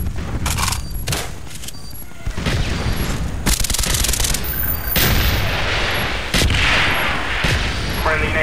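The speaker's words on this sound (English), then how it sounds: "Mortar coordinates received, firing for effect." Mortar strikes land in Call of Duty Black Ops, a rapid series of loud, booming explosions with crackling debris, repeating irregularly over several seconds amid game gunfire.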